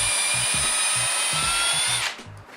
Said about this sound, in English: when you drill pilot holes into the wood